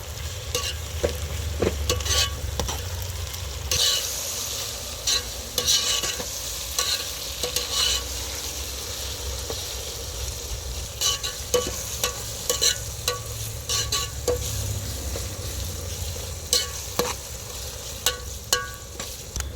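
Tomatoes fry in a pan with ginger garlic paste, a continuous bright sizzle broken by repeated scraping stir strokes, close and steady with no talk.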